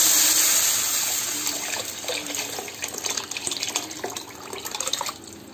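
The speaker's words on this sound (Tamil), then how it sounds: "இந்த குழம்பு மசாலா தண்ணி புளி எல்லா தக்காளி எல்லாத்தையும் கரைச்சிருக்கோம், அதை இதில் ஆட் பண்ண போகிறோம்" Tamarind and tomato masala water is poured into a pan of Hogenakkal-style fish curry, a steady liquid splashing and gurgling that fades slightly, then picks up with brief sloshing bursts.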